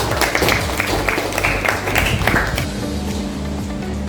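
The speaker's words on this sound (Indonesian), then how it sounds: "Tepuk tangan untuk Anda." Classroom applause from a group of students, a burst of clapping that runs for a few seconds and then tapers off into quieter room sound.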